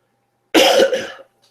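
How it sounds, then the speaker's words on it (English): A single harsh cough with a throat-clearing quality from a man getting over the flu, close and loud against an otherwise silent background. "I've got some lingering coughing and whatnot"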